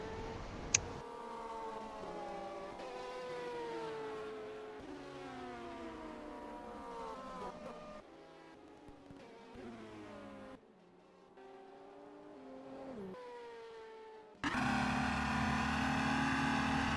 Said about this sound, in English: this is Gilles Sarrazin in the 51 Racing Audi R10